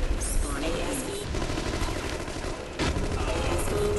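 Rapid gunfire from The Conduit online multiplayer, dense crackling bursts running nearly nonstop under other game noise, with a sharp louder volley near the end.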